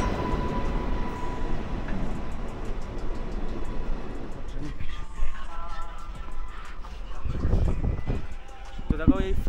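A passenger train stands and moves at a busy station platform, a steady broadband rumble and rolling noise throughout, with crowd and speech sounds rising toward the end.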